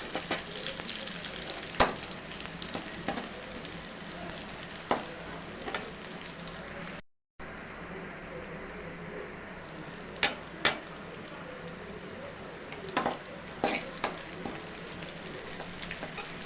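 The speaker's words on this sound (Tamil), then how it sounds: "வெங்காயம் நல்லா வதங்கட்டும்." A steady close sizzle of onions frying in a pan runs throughout, with occasional sharp scrapes and clicks of stirring.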